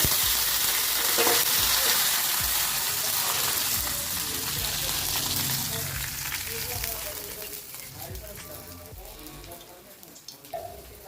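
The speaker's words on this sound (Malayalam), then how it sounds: "വേപ്പില ഇട്ട് കൊടുക്കാം." Curry leaves and dried red chillies crackle and sizzle in hot coconut oil after mustard seeds pop, tempering for a Kerala sadya beetroot pachadi; steady loud frying hiss with stirring, settling slightly toward the end.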